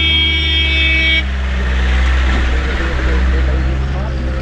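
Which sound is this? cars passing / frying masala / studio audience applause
cars passing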